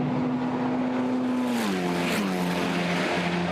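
Formula Renault Eurocup race cars at Paul Ricard heading into a chicane, a loud continuous engine whine that drops in pitch as they brake, with a second car's tone overlapping and a steady roar beneath.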